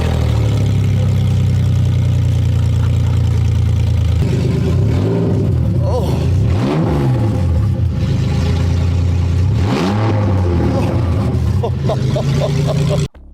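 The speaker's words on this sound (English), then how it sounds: "you have to do the obligatory sound test whenever you install DCAT headers" A BMW E46 with decat headers and a straight-through exhaust idles loudly nearby, then gets blipped through several sharp revs that rise and fall before dropping off abruptly at the end.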